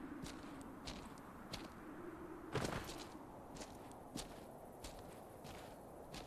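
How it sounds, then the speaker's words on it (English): Footsteps in the video game MISERY, set in a radioactive wasteland: a series of faint, irregular crunching steps with occasional sharper thumps, heard alone over a low ambient hiss. "Our footsteps still sound like they're behind us instead of under us."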